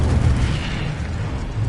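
A burst of magical fire from an Incendio spell cast in a Hogwarts video game, a loud roaring boom with a rumbling low end that sustains steadily for under two seconds.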